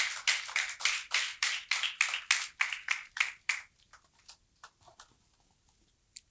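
An audience at a health workshop claps in an even, fast rhythm of crisp, separate claps that soon thins to a few scattered ones and then fades out.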